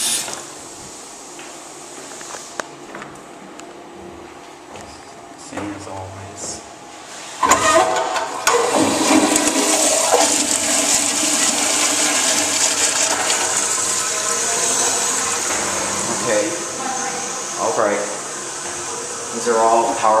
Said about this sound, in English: These are all pressurized toilets.